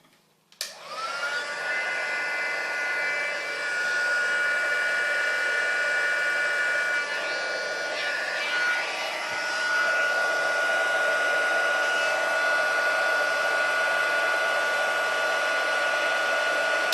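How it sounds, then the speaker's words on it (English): A heat gun starts up with a click and blows a steady, loud whooshing whine over embossing powder on a stamped shaker card, running continuously without pause. "now we're going to bring in the heat gun again. We're going to melt that embossing powder."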